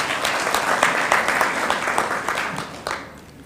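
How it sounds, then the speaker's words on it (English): A banquet crowd at a Kenya Police Football Club gala dinner applauds the treasurer with steady, dense clapping that fills the room, then gradually thins toward the end. "Bwana Treasurer, clap for him."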